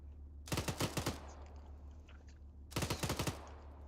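Two close, loud bursts of automatic rifle fire from the video game Arma 3, each about five or six rapid shots. The bursts are separated by a couple of seconds over a low steady hum.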